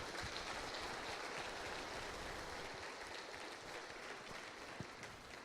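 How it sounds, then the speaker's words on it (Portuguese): A congregation at a church service applauds in a continuous, even wash of clapping, faint and distant-sounding throughout, with no speech over it. "Vamos dar um forte aplauso para Jesus"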